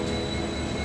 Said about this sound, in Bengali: এই এনজেপি স্টেশন, এখান থেকে ট্রেনে উঠবো দার্জিলিং মেল